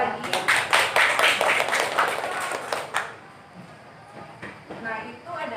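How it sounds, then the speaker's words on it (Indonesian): Students in a classroom lesson clap together in a lively burst of applause for about three seconds, the sharp claps dense and near, before it thins out into scattered claps and a quieter room. "Tepuk tangan sekali lagi."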